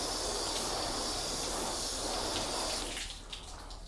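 Water floods and hisses steadily over sealant-coated car paint, a broad close rushing spray that thins and breaks up near the end as the flow stops.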